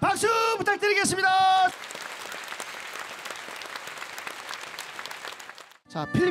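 Audience applause at an outdoor temple-mountain singing contest festival, a sustained dense clapping wash lasting several seconds after singing and a voice at the start, then music resuming.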